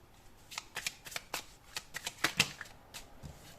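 Tarot cards shuffled by hand in a series of crisp, close riffling bursts and soft slaps, several quick flurries with brief pauses between them, no talk over them.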